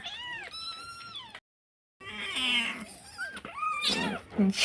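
A kitten meows repeatedly in high, rising-falling cries, close by, with a short silent gap partway through; a puppy is also present.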